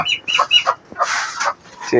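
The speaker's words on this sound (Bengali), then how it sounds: "এই যে আমার আকু, গলাশিলা মুরগি, এর নাম হচ্ছে আকু।" A naked-neck chicken clucks in several short bursts, close and fairly loud, with brief gaps between the calls.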